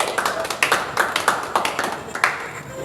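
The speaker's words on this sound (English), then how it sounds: "Round of applause" A short round of clapping greets a speaker introduced at a podcast, a small group's uneven hand claps, close and moderately loud, ending after under three seconds.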